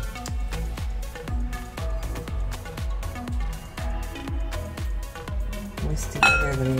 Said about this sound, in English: Whisk together the remaining ingredients.